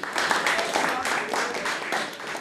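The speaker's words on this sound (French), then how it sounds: "Applaudissements dans la salle et en coulisses" Applause from diners in a restaurant dining room and staff backstage, a dense, steady patter of many clapping hands with voices mixed in throughout.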